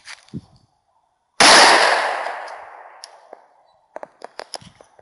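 One sharp, loud shot from an XD40SC pistol firing a Hornady Z-Max round into Ziploc bags of sand, ringing out and decaying over a couple of seconds, followed by faint handling clicks.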